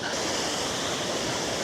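A powerful waterfall roars beside a mountain hiking trail on the Eiger in Switzerland, a dense, steady broadband rush of water close by and loud with no breaks and no talk.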